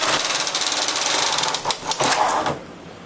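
Knitting machine carriage pushed slowly across the needle bed, giving a close, continuous rattling, clacking mechanical run that eases off toward the end.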